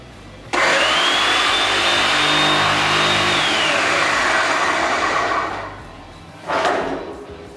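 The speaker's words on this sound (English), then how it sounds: "Now we're ready to finish the crimp." A hydraulic hose crimper presses a fitting onto a hose with a loud, steady motor whine and hiss that runs for about five seconds, dies away, then comes back in a short second burst, with no talking.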